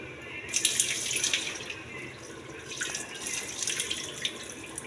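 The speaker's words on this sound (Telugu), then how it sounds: "ఒకసారి శుభ్రం కడిగి నీళ్ళు వంపేయాలి." Soaked millet rice is rinsed under running water and then drained, giving a continuous splashing, tap-like rush that swells and eases with a few louder surges, close by and without talk.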